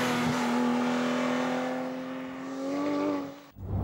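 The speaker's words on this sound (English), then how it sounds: "the best thing about this car is its 4-liter 6-cylinder engine and the great sound it makes" A Porsche 911 GT3's 4-litre six-cylinder engine holds a strong, steady high-pitched rev up close, dipping briefly and swelling again before cutting off abruptly.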